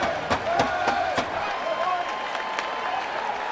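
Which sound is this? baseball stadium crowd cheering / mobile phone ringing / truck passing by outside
baseball stadium crowd cheering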